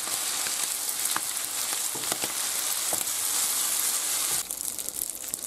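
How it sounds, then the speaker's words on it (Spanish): Drained spaghetti being stirred into bacon in a hot frying pan for carbonara, a steady bright sizzle with scattered scraping and clicking as the pasta is turned, fairly close and continuous with no talking. "ahora cogemos los espaguetis que ya están escurridos y los echamos encima. Y lo removemos bien"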